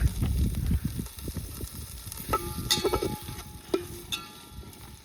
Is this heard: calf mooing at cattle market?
no